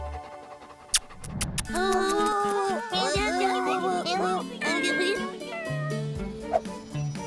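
A cat meows repeatedly in drawn-out, wavering cries close by, with a sharp knock near the start and brief voices mixed in.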